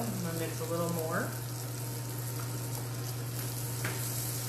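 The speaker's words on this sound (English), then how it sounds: "This is called pan frying." Fish pan frying in a mix of butter and olive oil, a steady close sizzle that continues throughout, with a brief spoken remark at the start.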